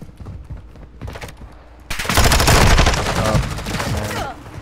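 Rapid automatic gunfire in Call of Duty MW2, starting as scattered shots and swelling into a loud, sustained burst of overlapping fire that fades slightly at the end.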